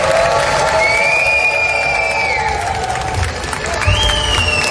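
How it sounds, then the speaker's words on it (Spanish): Delegates at the UN General Assembly fill the hall with a steady roar of shouting, booing and whistling, with sharp whistles rising above the continuous crowd noise. "Los silbidos, abucheos y salida masiva de las delegaciones del recinto de la Asamblea General opacaron a Benjamín Netanyahu."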